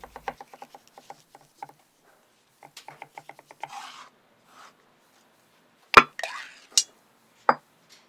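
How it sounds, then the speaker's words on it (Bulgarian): A knife slices cucumbers in a kitchen. Quick rhythmic taps run in two bursts, then a few louder, sharper cuts follow with short scraping sounds. Each sound is close and clear, and no one speaks. "Нарежете краставиците и сложете в купа."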